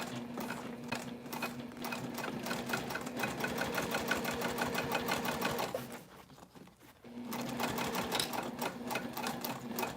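A sewing machine stitches a crossbody bag, running in a steady fast mechanical hum and rattle close up, pausing briefly for about a second midway before resuming at the same pace.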